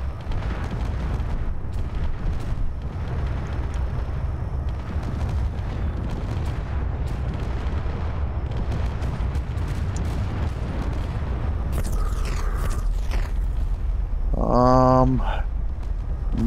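Support weapons fire in the Space Engineers video game, with a steady barrage of booming explosions and rumbling detonations. Near the end, a brief electronic tone sequence cuts through the blasts.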